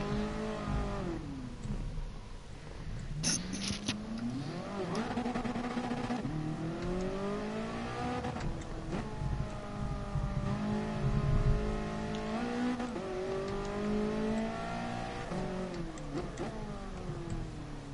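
A race car engine in GT Sport revs up and down through repeated gear changes, its whining pitch sweeping upward and dropping again, steady and close throughout with no talking.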